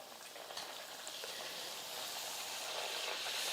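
Puri frying in hot oil gives a steady, close, crackling sizzle that builds slightly, with no voices over it.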